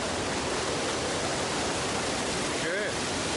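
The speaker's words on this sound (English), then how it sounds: "The river is loud." A loud river roars as a steady, dense rush of broadband water noise filling the whole clip, with a brief faint tonal sweep near the end.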